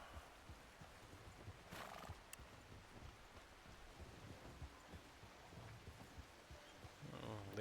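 A horse stirs and whinnies nearby while being led into a stall and tied off at an old Western-style spot, with faint hoof clops and shuffling throughout and a louder snort or whinny near the end.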